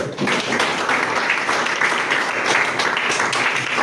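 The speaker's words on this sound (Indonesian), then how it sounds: "beri tepuk tangan untuk kelompok 1" A classroom of students applauds for a group, dense continuous clapping filling the room at close range for several seconds.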